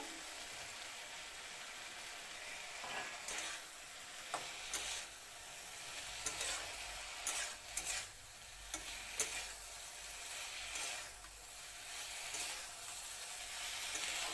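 Potatoes fry and get stirred in a pan for okra and potato curry, a steady sizzle broken by scraping stir strokes and clicks, close up with nobody talking.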